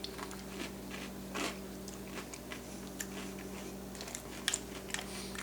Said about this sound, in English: I'm just eating cereal.